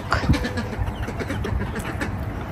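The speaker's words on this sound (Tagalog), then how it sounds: "Nasa labas yung ating mga manok." Bantam chickens clucking outdoors, a few short close clucks near the start followed by softer scattered bird calls over steady background noise.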